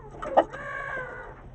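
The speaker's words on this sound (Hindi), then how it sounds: "वाइट मुर्गा।" A white rooster clucks close by in a backyard coop, giving a short burst of clucks with one louder note, over steady low background noise.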